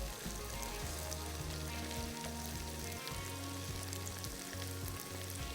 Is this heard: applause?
no